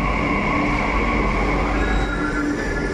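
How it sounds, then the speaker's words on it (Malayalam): A Delhi Metro train rumbles steadily with a constant mechanical hum and faint high squeals, running into a station. "ഞങ്ങളുടെ മെട്രോ വന്നിട്ടുണ്ട്"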